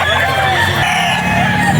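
A gamefowl rooster at a game farm crows loudly and close by, a drawn-out call that holds across the whole moment.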